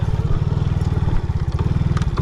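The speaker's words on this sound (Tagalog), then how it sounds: "Itong motor ko." A motorcycle engine running close by in a rural Philippine farm setting, a steady low, pulsing putter at idle, heard alone without talk.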